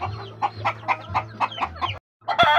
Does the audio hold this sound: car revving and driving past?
no